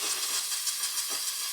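A pressurized steam cleaner hisses against a surface in one continuous, loud, close-up jet of steam with no break.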